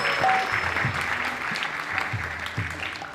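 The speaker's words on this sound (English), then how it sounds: "Let's have a round of applause for Gadadhar." A devotional gathering applauds a longtime servant of Krishna, a moderate burst of clapping that starts full and gradually thins, with some low background voice mixed in.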